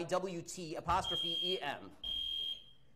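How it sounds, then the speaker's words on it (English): A fire alarm sounds at a live speaking event, a piercing high-pitched tone held in steady stretches, partly under a voice and then alone. "somebody pulled the fire alarm to stop this"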